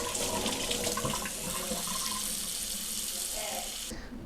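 Cold tap water runs steadily into a container to cover brined, pickled salmon, a continuous close splashing rush that cuts off near the end, with faint talk underneath.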